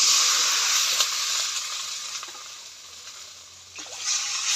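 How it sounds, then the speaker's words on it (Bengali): Broth poured into a pan of frying spice masala gives a loud bright sizzle and watery hiss, surging at the start, easing off, then flaring again near the end. "মশলা কষানো হয়ে গেছে, এবার পরিমাণ মতো ঝোল দিয়ে দেবো।"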